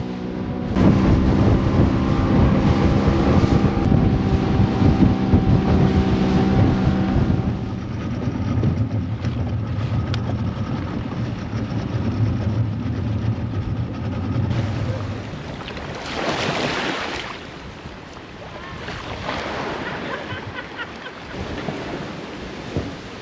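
A motorless boat crosses open ocean off a Fijian island. Wind buffets the microphone while water rushes and slaps against the hull, loud and continuous, with bursts of spray and gusts toward the end.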